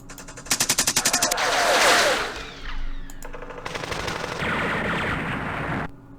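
Mortar and machine-gun fire in the Vietnam war game Campaign Series Vietnam, set at the Battle of Hue, with a rapid rattling burst followed by a loud sustained roar of explosions and more crackling fire.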